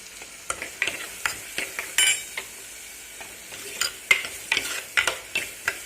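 Onions sautéing with salt and curry leaves in a pan for a dried-fish curry (karuvattu kulambu): a spoon scrapes and stirs in quick, irregular strokes over a soft, steady sizzle. No voices.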